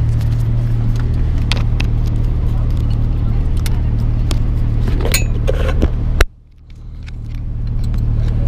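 A Porsche 911 GT3 RS on the Nordschleife runs with a loud, steady low engine and road drone inside the car, broken by a few light clinks. It cuts out sharply near the end, then rises again.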